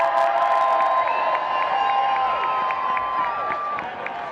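A rugby crowd claps and cheers steadily and loudly, a dense wash of applause with scattered whoops running throughout with little talk.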